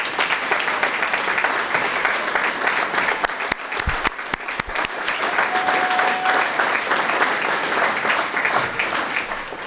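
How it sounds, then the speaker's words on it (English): A ceremony audience gives a sustained, loud round of applause at a county adoption day event, dense clapping filling the whole stretch with a brief dip midway. "let's give a huge round of applause to all the folks"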